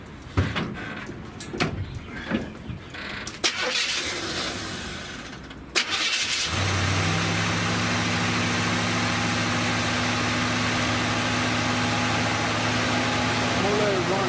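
A 1970 Buick Wildcat V8 fitted with a new Quadrajet carburetor cranks and fires, then settles into a loud, steady idle close by, after some clunks and handling noises beforehand.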